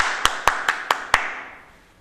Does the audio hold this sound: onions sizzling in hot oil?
no